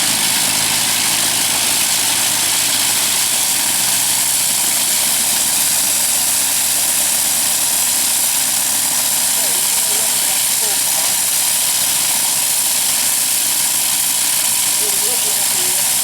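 A Sopwith Pup biplane's engine running at high power during ground testing, a loud, steady roaring hiss with a low rumble that holds constant for the whole stretch with no pauses.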